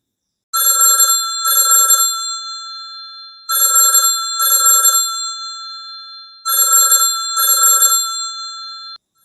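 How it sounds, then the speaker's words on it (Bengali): Old telephone bell ringing unanswered: three loud, close pairs of electronic double-rings with silent gaps between them, no voices. "অন্য প্রান্তে ফোনটা বেজেই গেল, কেউ তুলল না"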